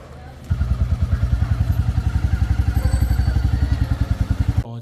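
A motorcycle rides off from a shop toward home, its engine thumping in a steady, rapid rhythm that starts abruptly after a brief pause and runs loud and close until it cuts off at the end.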